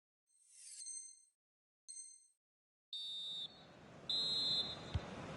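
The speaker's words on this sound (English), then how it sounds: "So it's 1-0 here as the half-time whistle goes" A referee's half-time whistle in the FIFA 20 football video game gives four shrill blasts: two short ones alone, then two longer ones over a rising crowd roar.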